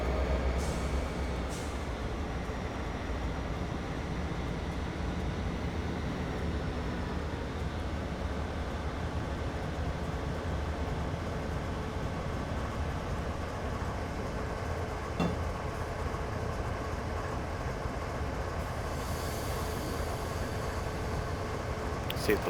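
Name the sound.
train reversing, Train Simulator 2013 video game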